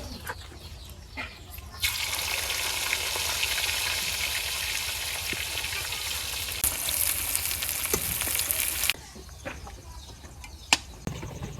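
Sliced bitter gourd frying in a pan, a bright hissing sizzle that swells in after a quiet start and drops off later, with birds cooing faintly in the background.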